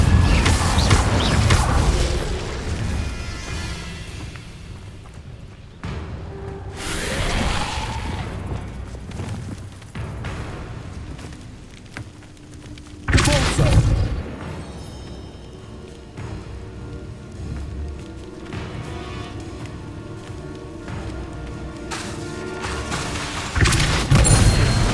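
A fiery burst from the Incendio spell in Hogwarts Legacy, with loud booming whooshes of flame at the start, around six seconds and around thirteen seconds, and a final burst near the end over a rumbling game soundscape.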